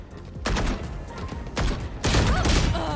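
Gunfire in the Valorant video game: three loud bursts of shots, each a sharp broadband crack followed by a rattling tail, spaced roughly a second apart with no talking.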